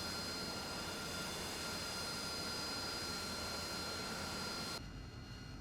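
Steady, loud roar of an AV-8B Harrier jet engine in the DCS World flight game, a continuous broadband rush with a high whine that drops slightly at the end, with no voices.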